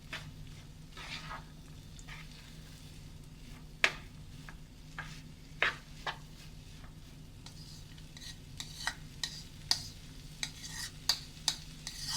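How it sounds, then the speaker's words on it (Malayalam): A spoon stirs prawns with banana flower in a pan for Kodappan Chemmeen Ularthiyathu, giving irregular scraping clinks and soft squishy sounds over a faint sizzle, with the clinks growing more frequent toward the end. "ഇനി നമുക്കിതെല്ലാം ഒന്ന് മിക്സ് ചെയ്യാം."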